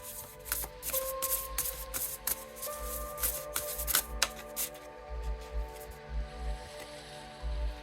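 Oracle cards being shuffled by hand, soft papery riffles and taps repeating in quick bursts, quiet and close, with faint background tones.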